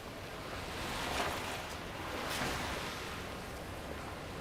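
A buried London river flows out of sight beneath a drain cover, giving a steady, faint rushing wash that swells gently twice and carries no voices.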